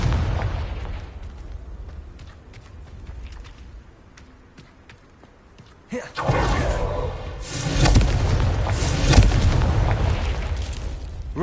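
Confringo blasting spell explosions in the video game Hogwarts Legacy, a quieter stretch of scattered small pops giving way to a loud, sustained run of booming blasts and crackling bursts for the last half.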